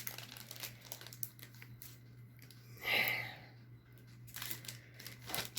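A packet of bamboo charcoal blotting sheets crinkles and rustles as it is handled, with a louder burst of crackling near the middle over a faint steady hum, no one speaking.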